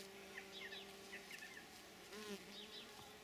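Honeybees buzz around garden flowers in midsummer. Several faint hums drift past at close range, with birdsong chirping lightly in the background.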